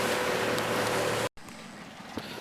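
Motorboat engine running steadily on open water near Cowes, a loud constant drone with wind noise on the microphone, cutting out briefly before continuing more quietly.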